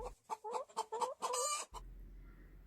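A hen clucks in a rapid run of about eight close, loud clucks with a brief louder squawk at the end, then quiet farmyard background.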